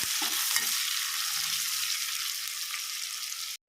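Curry leaves, three finely chopped green chillies and onion fry in hot oil with a steady, close, loud sizzling hiss that runs unbroken, then cuts off abruptly at the end.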